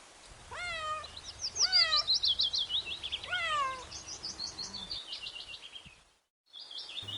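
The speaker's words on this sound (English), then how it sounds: "C for cat." A cat meows three times, each a clear downward-sliding cry, followed by a run of high, bright chirping tones over a soft background bed in a children's alphabet rhyme.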